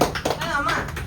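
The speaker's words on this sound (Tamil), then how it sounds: "கை தட்டுங்க" Hands clap a few times in quick bursts at a family gathering, mixed in with nearby voices and some chatter.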